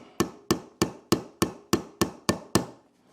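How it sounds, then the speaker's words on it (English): A hammer taps a new sight into the slide of a Sig P226 pistol, striking nine times in an even, steady rhythm, each blow a sharp close metallic knock with a quick decay. "I'm going to use a hammer to see if we can just start it in there"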